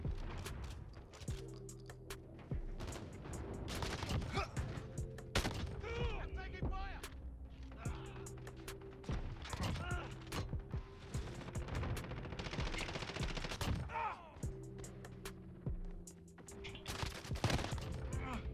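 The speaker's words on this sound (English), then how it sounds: "Probably likely even one shot it, considering this fucking shotgun." Rapid gunfire fills a Call of Duty Modern Warfare match, where a shotgun is in use: dense repeated shots and bursts with booms and mechanical clatter, continuous and loud throughout, under game sounds and occasional voices.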